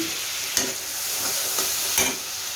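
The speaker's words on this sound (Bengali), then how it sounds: "এখন আমি ভালোভাবে নেড়ে চেড়ে মশলাটা বেগুনের সঙ্গে মিশিয়ে নেব।" Eggplant pieces fry in spiced oil for an eggplant bhuna with shrimp, a soft steady sizzle broken by a few sharp scrapes and clinks as the spoon stirs them through the masala.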